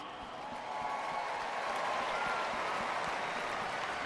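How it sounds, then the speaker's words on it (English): Large crowd at a sold-out Milwaukee Brewers stadium event applauding, a broad, continuous roar of clapping and crowd noise that rises slightly and then holds steady. "please give yourselves a huge round of applause"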